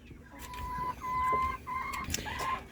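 Naked neck Turken chickens cluck and murmur quietly nearby, a few soft, short calls over faint background noise.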